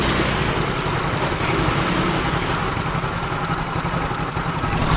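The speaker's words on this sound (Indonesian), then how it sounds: "Mesin jadi rata hidupnya, tidak nyendat" A Yamaha motorcycle engine idles steadily and evenly up close, a loud, unbroken low mechanical hum without stutters or surges, and no one speaking.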